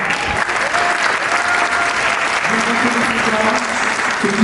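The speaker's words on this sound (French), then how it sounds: "Je vous présente Soulé Diarra, je pense qu'on peut encore avoir une salle d'applaudissements." Audience applause fills a hall for a singer after her performance of the national anthem at a diaspora community event, loud, dense and steady clapping with a few voices calling out over it.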